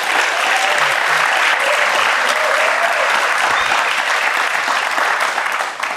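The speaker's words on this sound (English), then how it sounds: "You can give Nigeria a big round of applause." Studio audience applause on a talk show, loud and dense clapping from the whole room that carries without a break for about six seconds before easing at the very end.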